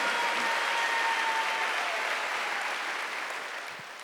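Church congregation applauding during a Korean Wednesday worship service, a dense, steady wash of many hands clapping that stays loud throughout and tapers slightly toward the end.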